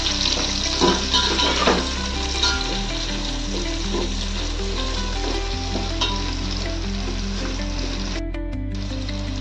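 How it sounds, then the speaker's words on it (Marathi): Onions frying in oil for chicken pulao, a close, steady crackling sizzle with occasional stirring, sounding under a continuous background music track with no talking. "परतून घेऊया तेलात"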